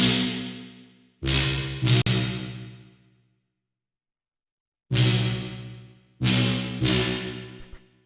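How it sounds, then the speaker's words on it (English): Short, punchy tech house synth stabs hit in two pairs, each with a bright attack and a brief decaying tail, separated by a silent gap. "the first sound we have here is a stab"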